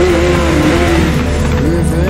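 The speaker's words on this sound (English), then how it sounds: "Pull up to the checkpoint and spin your wheels" A car spinning its wheels at a race checkpoint in Need for Speed Most Wanted, a loud sustained engine roar with revving and tire squeal filling the whole moment.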